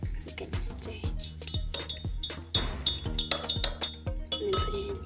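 Glass clinks repeatedly as a spatula stirs food coloring in a glass of water, small taps and scrapes sounding close over faint background noise.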